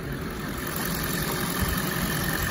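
A 2010 Audi A8L's 4.2-liter V8 idles steadily with the hood open, a smooth, continuous low rumble with a faint high whine on top and no breaks.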